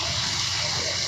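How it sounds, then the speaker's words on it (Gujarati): Heavy monsoon rain pours steadily over waterlogged streets in Vadodara, a dense, continuous rushing wash of falling and flowing water with no break and no voices. "લગભગ સતત 3 કલાકથી વરસાદ વરસી રહ્યો છે"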